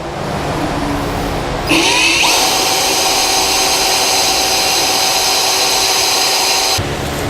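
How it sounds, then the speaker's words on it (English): A power drill whines steadily at high speed for several seconds after a brief start-up, drilling a pilot hole in a 2015 Chevrolet Silverado truck bed, then cuts off abruptly; loud and close. "I'm going to drill a pilot hole so that we can get everything in place"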